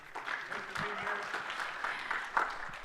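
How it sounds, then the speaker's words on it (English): A panel on stage at Belleville High School in Michigan gets faint, distant audience applause, a soft continuous patter of clapping mixed with low crowd murmur. "please give everybody up here a round of applause."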